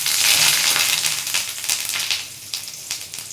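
Asafoetida and curry leaves crackle and sizzle steadily in hot oil in a home kitchen while South Indian food is cooked, a close, bright frying hiss with small pops throughout.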